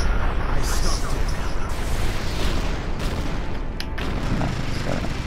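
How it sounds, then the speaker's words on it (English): Dense rapid machine-gun fire in the Naruto Shippuden Ultimate Ninja Storm 4 video game, a loud sustained rattle of bursts and booms, with someone talking over the top. "That's a machine gun here."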